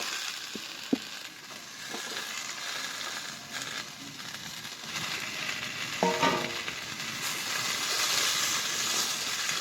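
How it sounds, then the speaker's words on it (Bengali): Pumpkin, potato and Malabar spinach stalks sizzle and fry in a pan while being stirred, with a steady hiss, scattered scraping clinks of the utensil and a brief metallic clatter midway. "এবার কেটে রাখা পুঁই শাকের ডাঁটাগুলোও দিয়ে দেবো, দিয়ে একটু ভালো করে নাড়াচাড়া করে ভেজে নেব।"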